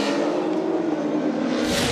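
Supercars touring race cars accelerate hard out of a hairpin at the 2014 Tasmania 400, a loud, sustained engine roar building steadily with no talk over it.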